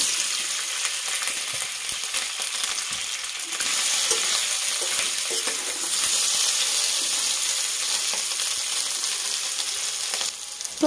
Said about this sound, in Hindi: मैं इसमें इसको गोल्डन ब्राउन होने तक फ्राई करूंगी